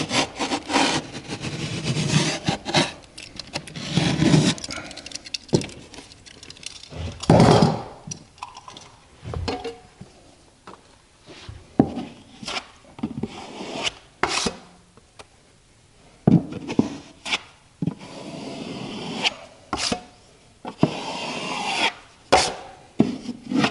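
Broken sheetrock is cut and scraped out of a drywall corner, with irregular rasping strokes and sharp scratchy bursts, close by and uneven in rhythm, with no talking.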